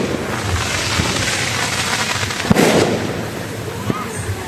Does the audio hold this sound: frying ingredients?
no